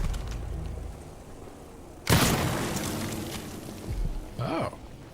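A nest bursting apart after being shot in the stealth game Dishonored 2: one sharp, loud boom that decays slowly, followed by quieter game sounds and a brief whooshing effect.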